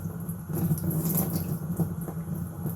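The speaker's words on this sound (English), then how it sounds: "rinse it out so that you can see water coming out of the end of it" Water runs and splashes as a plastic autosiphon for winemaking is rinsed out under a tap, a steady close gurgling flow with small surges and no talk.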